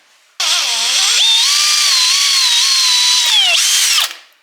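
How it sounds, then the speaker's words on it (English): A power drill whines up, holds a high, steady pitch while boring a small hole in a metal part, dips briefly as it speeds again, then stops. Close and loud, no talking. "I'm going to drill a hole in it."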